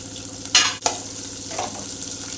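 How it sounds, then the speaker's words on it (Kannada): Chopped onions and green chillies fry in a pan with curry leaves, giving a soft steady sizzle broken by a couple of sharp stirring scrapes near the start. "ಚಂದ ಉಳ್ಳಾಗಡ್ಡಿ ಫ್ರೈ ಆಗೋ ಮಟ"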